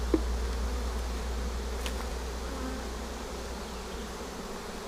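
A honey bee swarm buzzing inside a swarm box, a dense continuous hum of many insects at close range, with a brief knock near the start and no speech.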